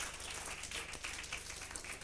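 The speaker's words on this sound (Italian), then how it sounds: "Questi applausi sono per voi." Applause from a crowd at a pub show, a faint, continuous wash of hand clapping heard from a distance with no other sounds standing out.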